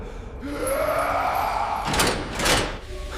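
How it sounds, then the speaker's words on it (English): A heavy metal prison door is struck in a sound effect: a low scraping groan gives way to two loud, ringing metallic impacts near the end. "The first impact failed, leaving only a violent metallic echo beneath the approaching screams."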